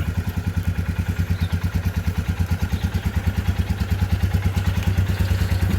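A CB 350 or Himalayan motorcycle pulls off in first gear on clutch release alone with no throttle, its single engine thumping in a steady, rapid beat that grows slightly stronger, close and loud.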